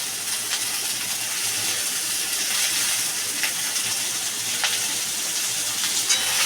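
Finely chopped, washed tender alkul leaves sautéing in a pan with a steady, close sizzling hiss and faint scraping of stirring, without any talking.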